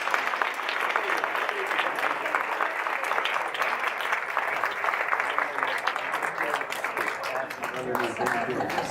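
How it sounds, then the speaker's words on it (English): Dense, steady applause from an audience at a Master Gardener recognition ceremony, with many hands clapping continuously for about nine seconds at a fairly close, even level. "let's have a round of applause for our hot shot."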